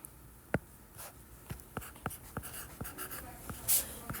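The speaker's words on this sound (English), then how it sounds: "Just writing it, again," Pencil or pen writing out trigonometry math on paper, close and quiet, with short scratchy strokes and taps at irregular intervals and no talking.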